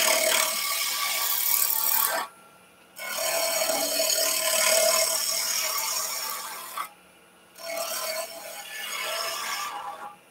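A woodturning gouge cuts wood spinning on a lathe, a rough, steady scraping rasp in long passes broken by two brief pauses, close and fairly loud with no speech.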